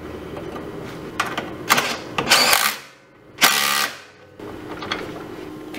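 A ratchet tightens the leaf spring bushing bolts on an EZGO golf cart: bursts of rapid clicking, close and fairly loud, separated by short pauses.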